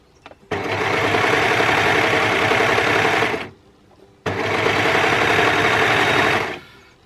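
An overlocker stitches stretch fabric for a hoodie in two steady, loud runs of rapid mechanical whirring, separated by a brief pause, with no talking.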